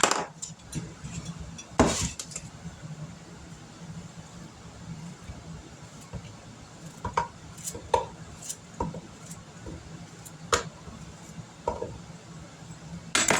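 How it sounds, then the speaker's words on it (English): A knife cuts food into chunks while preparing a crustless chicken pot pie, giving scattered knocks and taps, close and moderately loud, with a sharper clatter near the start. "I'm just going to cut this up, like I said, into chunks."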